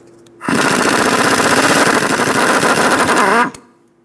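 Power impact wrench removing a sway bar link on a 2014-2018 Chevrolet Silverado 1500: a loud, close, rapid hammering rattle runs continuously for about three seconds, then stops abruptly.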